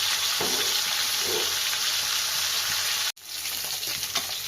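Rohu fish head frying in hot oil, a steady close sizzle filling the clip with occasional stirring clatter and a brief break near the end before the crackle resumes.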